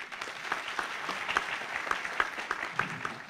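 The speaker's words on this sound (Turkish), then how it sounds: "kocaman bir alkış gelsin" Audience applause at the first ordinary congress of a Marmara federation of Iğdır associations in Turkey, a steady dense clatter of many hands with a few sharper claps standing out, filling the whole stretch without talk.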